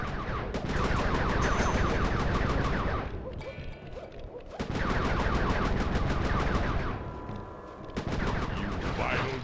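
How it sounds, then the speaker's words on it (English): Fireworks launched by Panda King in the Sly 3 video game: rapid, loud crackling bursts of rhythmic popping fire in two long volleys, briefly interrupted by a quieter gap with faint tonal game sounds. "Be careful with those fireworks, Panda King."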